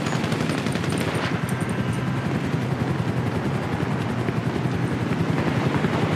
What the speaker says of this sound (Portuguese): Mais um helicóptero.